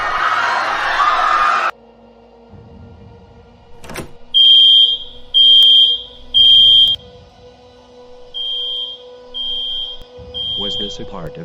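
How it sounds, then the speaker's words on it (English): A fire alarm sounds in a building during an evacuation. It begins as a loud rush, then after a sharp crack gives shrill repeated electronic beeps in two bursts of three, with voices in between. "Hit the damn fire alarm."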